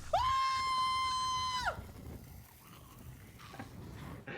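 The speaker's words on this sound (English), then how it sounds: "this clip is important to us because Dev screams exactly like Alan Tudyk does" A man lets out a single sustained, strained scream in a film scene, loud and steady before breaking off, followed by quieter background noise and faint rustling.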